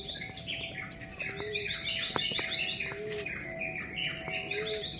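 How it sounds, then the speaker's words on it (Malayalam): Birds chirp in a deserted outdoor spot, with repeated quick bursts of high, bright notes in rhythmic series and a few softer calls, fairly close and clear over a steady background hum. "ഉണ്ട് കിളികൾ ചങ്ങാത്തം കൂടി വരുന്നുണ്ട്."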